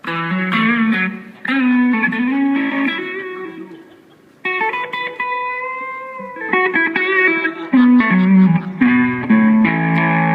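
Electric guitar played through a mild overdrive pedal in a Marshall Bluesbreaker style, a lightly driven, slightly crunchy tone, with chords and single-note phrases, a brief sustained pause, then more riffing.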